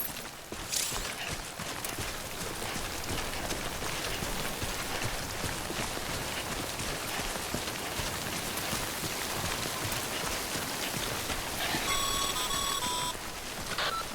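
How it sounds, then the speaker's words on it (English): Timefall rain falls in the video game Death Stranding as a dense, steady hiss that lasts throughout. A short run of beeping tones rises briefly near the end. "Don't stay out in the rain any longer than you have to."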